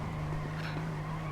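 A car skids in the video game GTA, a steady loud tire squeal with engine drone throughout, with no voices.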